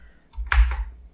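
A computer keyboard and mouse being used while building a game in a 2D game-making tool, giving a short cluster of close key clicks and taps alone in a quiet room.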